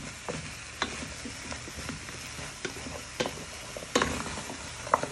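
Winter soup vegetables being stirred around a pan, a soft low sizzle under intermittent scrapes and light knocks of a spoon against the pan, fairly quiet and close.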